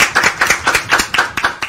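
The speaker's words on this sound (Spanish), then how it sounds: "¡Un aplauso!" A small group claps in a quick, even rhythm, loud and close, with no voices over it.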